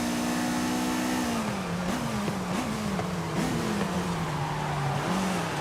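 A naturally aspirated car engine in Forza Horizon 5 drones loud and steady, its pitch sagging, then climbing and dipping again through gear changes as the revs build slowly, with no voices over it.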